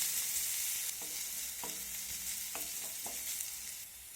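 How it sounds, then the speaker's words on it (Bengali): Chopped onion stir-frying in a pan for a bottle-gourd-leaf bharta, a soft continuous sizzle with a few sharp spatula scrapes and taps spaced across the frying. "এখন সব কিছু আমি আবারও ভালো করে নেড়ে চেড়ে ভেজে নেব"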